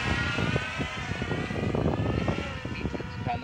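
An Ehang Ghost 2.0 drone flying forward, its propellers giving a steady buzzing whine with a fluttering motor drone, close and continuous throughout, no talk over it.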